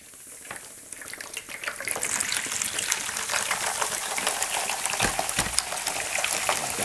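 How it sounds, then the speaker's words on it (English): Monster Energy drink poured from a can into a container indoors, a steady fizzy liquid gush building after a quiet start and running on without a break, close and fairly loud. "Pour away."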